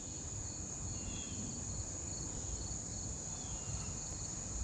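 Steady, dense insect chorus with a constant high cricket-like trill beside a small creek, continuous and even throughout with no voices.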